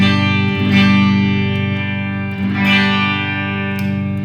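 A 2018 Gibson Les Paul Classic electric guitar on its middle pickup position rings out sustained, strummed chords, loud and steady with a few fresh attacks and a roomy wash of effects and reverb.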